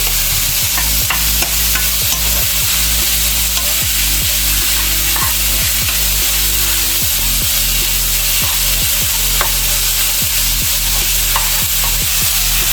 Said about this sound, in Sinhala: දැන් හොඳින් කලවම් කරගන්නවා. මේක හොඳට ෆ්‍රයි වෙනකම් මේ කිම්චි හොඳට ෆ්‍රයි වුණාම තමයි රසට එන්නේ